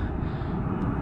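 A United Airlines airliner passing at Salt Lake City International Airport, its engines a steady, loud broadband roar that holds evenly throughout, with no voices heard.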